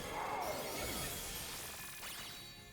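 The Metal Sound move effect from a Pokémon video game raid plays as a bright, shimmering metallic screech with sweeping tones and a glassy ring, loud and steady throughout.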